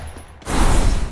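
Shotgun blast in a video game firefight, a sudden loud burst after a quiet moment that rings out briefly.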